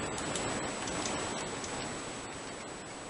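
Rapid ticking clicks of a cat typing on a typewriter in the Minecraft Crazycraft game, a fast irregular stream of light taps over a steady hiss and a thin high whine, moderately quiet.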